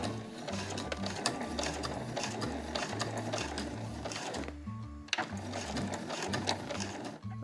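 A home sewing machine stitches along the fabric edges of a granny bag, its motor whirring in steady rapid pulses that pause briefly midway and then resume, running close and loud with no voices.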